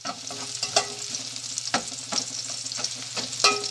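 Chicken feet sizzle steadily in a hot pan with oil as a utensil stirs them, giving a continuous close frying hiss broken by scraping and clacking strokes against the pan.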